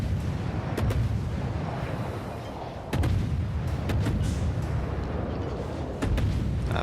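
Naval gunfire in World of Warships, with heavy booming salvos landing roughly every second or two over a constant rumbling battle background, loud and close.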